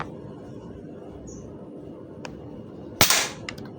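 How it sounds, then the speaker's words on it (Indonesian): A single sharp, close air rifle shot cracks out near the end, decaying quickly after a quiet outdoor stretch with a few small clicks. "Oke, lanjut tembakan kedua."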